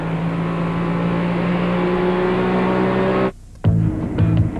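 NASCAR stock cars race at Richmond in the 1994 Autolite Platinum 250, loud and steady engine roar that cuts out abruptly, then returns in shorter bursts.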